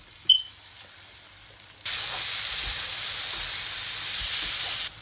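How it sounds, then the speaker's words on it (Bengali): Ginger-garlic paste with cumin, coriander and chili powders frying for a prawn fritter curry: near-quiet with a small clink, then a sudden steady hiss of sizzling that holds evenly for about three seconds before cutting off. "এর মধ্যে আদা রসুন বাটা, জিরের গুঁড়ো, ধনের গুঁড়ো, মরিচের গুঁড়ো এগুলো দিয়ে ভালো করে কষিয়ে নিচ্ছি"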